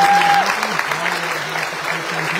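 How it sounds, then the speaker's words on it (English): Audience applause for the organizers at the close of a Grade 8 moving-up ceremony, a steady wash of clapping that runs throughout, with a voice speaking over it near the start. "A round of applause for those organizers."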